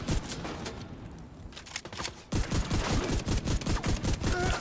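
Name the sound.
gunfire in The Division video game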